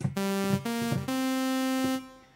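A dry, buzzy saw-wave synth from the MSoundFactory Supersaw instrument, unison off, plays a few quick notes, then holds one longer tone that fades out, thin with no chorus-like spread.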